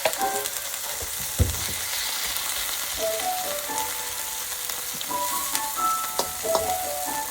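Ginger garlic paste sizzles steadily in a hot pan, with a dense crackling hiss throughout and occasional louder pops and spoon knocks.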